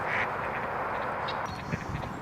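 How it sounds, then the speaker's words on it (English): A mallard hen quacks in a quick, loud, close series of harsh nasal calls over a brief moment, with no other voices. "The mallard's famous quack call is typically only performed by the hen."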